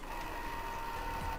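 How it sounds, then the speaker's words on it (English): Short electronic printer sound effect from the video game Zero Escape 999, a steady mechanical whirring hum with a sustained tone, lasting about a second and a half at moderate level. "Was that a printer sound?"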